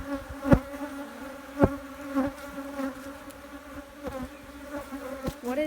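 Bees buzz steadily around a hive being split, a dense close hum with soft knocks and bumps from the hive work, and no talking.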